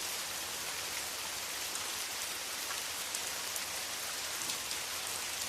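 Steady rain falls without a break, a dense even hiss of drops on surfaces with scattered brighter patters, no voices and no thunder.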